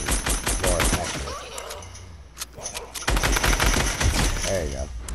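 Rapid bursts of gunfire in the video game Fortnite crackle loud and close, with a short lull mid-way before dense automatic shots resume, while players talk over the action.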